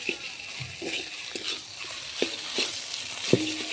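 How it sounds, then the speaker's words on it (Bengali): A spice mix being stirred in a pan over a clay earthen stove, soft frying hiss with a few scattered scraping and tapping strokes of the spoon, fairly quiet. "এবার মশলাটা একটু নেড়ে নামিয়ে নেবো"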